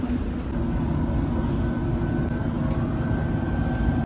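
A London Underground tube train rumbling steadily through a tunnel, a continuous loud low roar with a faint whine, heard from inside the carriage with no talk.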